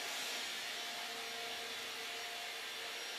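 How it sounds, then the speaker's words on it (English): A household vacuum cleaner runs in a steady, even whine and hiss, a continuous motor drone at moderate distance with no talk. "now my nice fiance is vacuuming"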